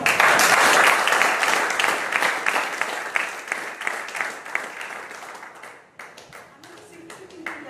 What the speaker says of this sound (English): Please give him a good round of applause.